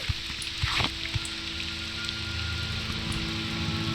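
Rain falls steadily in the Morrowind video game, a continuous hissing patter with a few louder drop ticks near the start, close and even with no talking.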